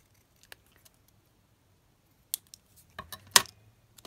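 Scissors cut paper to make a window envelope, giving a few sharp isolated snips and clicks with quiet gaps between them, close and fairly crisp, with no talk.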